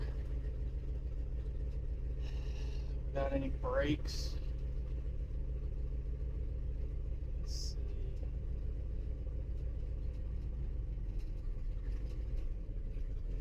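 An old Ford car engine rumbles steadily at low speed as it is driven, a constant mid-level drone running throughout while someone talks over it in short bursts.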